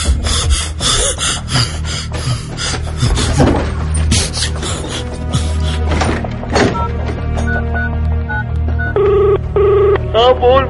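An old-style telephone bell rings in repeated bursts, loud and close, over a busy mix of rasping, rubbing and background music, with a voice speaking at times.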